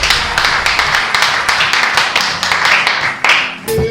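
Church congregation clapping and applauding during a service, a steady loud round of many hands close by with brief voices mixed in.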